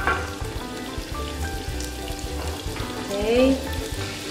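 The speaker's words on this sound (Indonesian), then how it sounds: "Kita tuang margarinnya sebentar." Margarine sizzling and frying in a hot pan on a stove, a steady crackling hiss with small spattering pops, briefly swelling louder near the end, while a voice speaks a short word over it.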